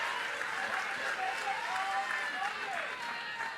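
Home crowd of Georgia fans cheering and applauding at a softball game, a steady, dense wash of cheers and claps that holds loud and even throughout, with no clear break.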